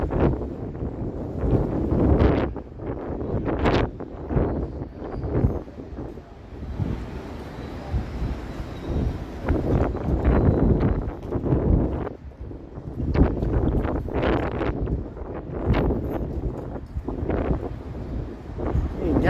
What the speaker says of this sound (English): Crazy wind here.